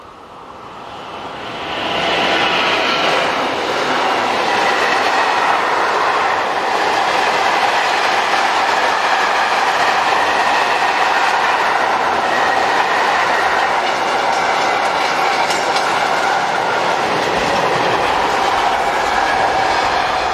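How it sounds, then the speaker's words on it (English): Mixed freight train hauled by locomotive 36001 from Antwerpen North Yard to Saumur rumbles past, rising quickly into a loud, sustained roar with rhythmic wheel clatter and faint squeal, steady for many seconds. "number 36001 powers a mixed freight from Antwerpen North Yard to Saumur"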